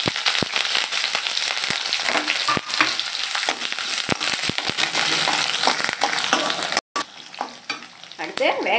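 Curry leaves, small onions, green chillies, chana dal and urad dal frying in hot oil, a loud, continuous crackling sizzle with sharp pops and stirring clinks throughout, briefly cut out near the end.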